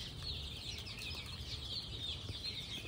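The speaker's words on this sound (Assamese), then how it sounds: "মুৰ্গী পোৱালি হয় এইখিনি।" Young local chickens, fourteen-day-old chicks on a low-cost farm, cluck and peep softly in a faint, continuous flock chatter with quick repeated calls and no talking.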